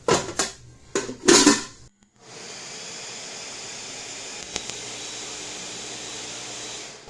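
A lid being put on a container while preparing chocolate peanut butter banana frozen custard base: a few quick close clatters and knocks, followed by a steady hissing background hum.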